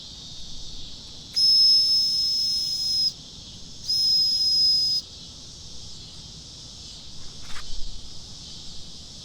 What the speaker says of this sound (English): just bleeding off our steam